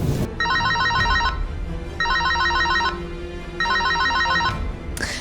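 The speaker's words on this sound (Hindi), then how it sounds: "किसका फोन रिंग हो रहा है?" Bright, repeating electronic phone ringtone sounding in a lab, three loud bursts of a warbling tone pattern spaced by short pauses, close and unaccompanied by speech.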